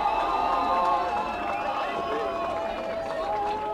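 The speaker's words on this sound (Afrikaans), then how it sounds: "Dit is lekker om te hoor hoe die skare saampraat." A rugby crowd at a Premier League match between FNB Kudus I and Dolphin I gives a sustained roar and cheer, steady and fairly loud, with shouts rising out of the mass and a voice talking over it.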